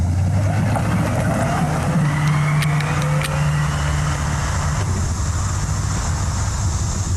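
An electric conversion car pulls away, giving a low steady hum with a brief rising whine over broad road and wind noise, fairly distant and even in level throughout.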